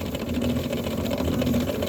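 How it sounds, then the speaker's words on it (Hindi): A generator-driven winch engine at a Pakistani coal mine, which lowers the haulage cart 200–300 feet down the shaft, runs with a steady, close, loud idling drone and a rattling mechanical hum, with no break in the sound. "ये वो इंजन है जो ठेले को नीचे लेके जाता है"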